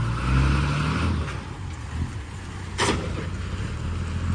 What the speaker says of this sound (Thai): โอ้ยดูเสียงเครื่องครับ